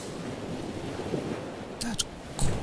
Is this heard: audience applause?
no